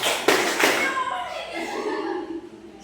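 Indonesian vocational students in a classroom do the 'tepuk malam' rhythmic clap: two crisp group clap hits early on, followed by children's voices chattering and calling out through the rest.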